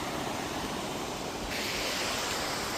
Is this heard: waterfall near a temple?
yes